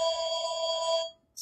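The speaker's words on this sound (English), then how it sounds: "sorry about the phone" A phone rings with a steady electronic tone for about a second, close and clear, then stops; a brief higher chirp follows after a short silence.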